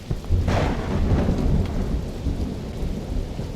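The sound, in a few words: thunderstorm and rain in a video game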